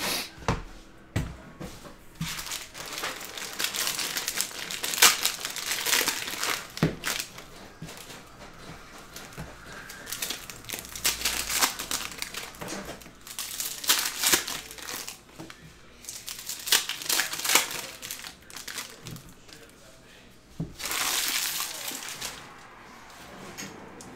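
Cello packs of Prizm football cards ripped open by hand, bursts of crinkling plastic tearing and rustling close up, coming in repeated waves with quieter handling between.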